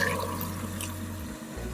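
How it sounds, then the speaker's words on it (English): Water pours steadily into rice in a rice cooker, four cups for three cups of rice, a continuous close liquid rush with a brief dip near the end and no talking. "for 3 cups of rice, I'm going to add in 4 cups of water"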